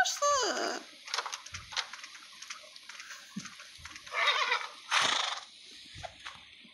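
Horse in a video game gives a descending whinny near the start, followed by scattered snorts and short rustling noises, with a person talking intermittently throughout.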